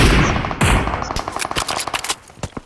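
Rapid bursts of automatic gunfire from a PUBG Mobile match on Erangel, loud and close at first, then breaking into sharp, irregular volleys of shots at varying distances.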